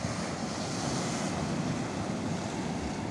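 Surf rolls in continuously at Karang Paranje beach in Garut, Indonesia, a dense, steady wash of ocean waves heard alone with wind rushing across the microphone.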